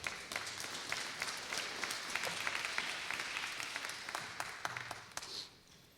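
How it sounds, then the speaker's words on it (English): A congregation at a Sukkot scripture reading claps for the readers, a fairly faint, crisp patter of individual hand claps that continues and then fades out toward the end. "We can clap for that."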